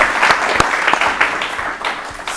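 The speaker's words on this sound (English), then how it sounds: "Let's welcome all of them once again with a round of applause." An audience at a quiz show claps to welcome the champion teams, a full round of applause with sharp individual claps standing out from the steady crowd patter.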